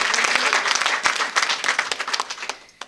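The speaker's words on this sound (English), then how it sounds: "We're gonna do another round of applause," An audience at a ceremonial bill signing for a kinship care bill breaks into applause, a steady dense patter of many hands clapping for a few seconds before it thins out.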